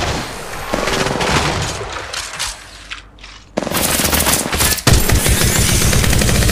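Rapid automatic gunfire from the mobile battle royale game Apex Legends Mobile rattles in dense, loud bursts, briefly dipping before a fresh volley resumes at full intensity.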